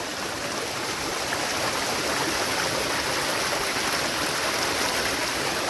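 Water streams over rocks near the Perantalapalli Shiva temple by the Papikondalu hills, a steady, close rushing hiss that holds even and continuous throughout with no voices.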